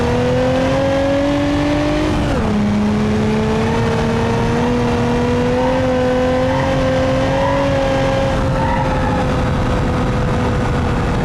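Loud, close engine noise from a turbocharged 2.5-liter V6 car in BeamNG.drive, rising briefly before dipping around two seconds, then holding a steady, slightly climbing rev for the rest of the stretch, with no voices.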